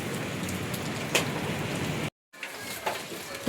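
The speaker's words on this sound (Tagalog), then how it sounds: "Humina din po yung ulan." Steady rain patters on surfaces nearby in a dense, even hiss, broken by a brief drop to silence before the shower resumes, with a few faint knocks over it.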